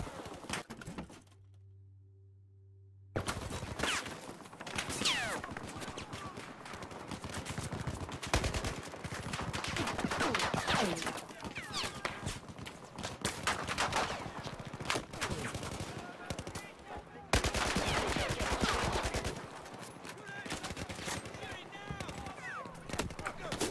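Gunfire in the video game Battlefield 4 comes in repeated bursts of automatic shots and single cracks, loud and dense through most of the stretch after a brief quiet start.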